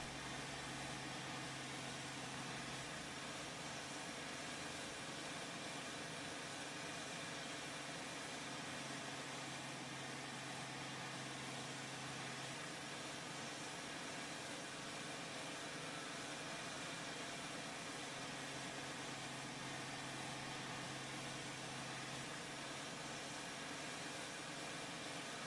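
A tractor engine in Farming Simulator 2013 idles in a steady, unbroken drone for the full length, loud and constant with no change in pitch or rhythm.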